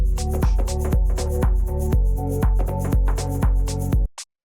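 A shaker sample ticks on the offbeats over a steady loop of bass and chordal hits, loud and rhythmic, cutting off abruptly at the end.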